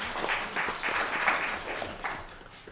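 A town council meeting audience gives a short round of moderate applause, the clapping spread out and fairly distant in the room.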